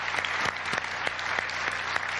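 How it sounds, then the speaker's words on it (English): Applause from an audience at a 1994 spring college show, a steady wash of clapping with sharper individual claps standing out, continuous and fairly close. "Let's give him a round of applause."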